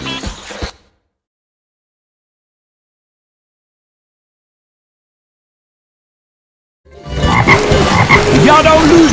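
A frog croaks in The Princess and the Frog video game, with a brief sound, a long stretch of silence, then dense, loud croaking and game sounds.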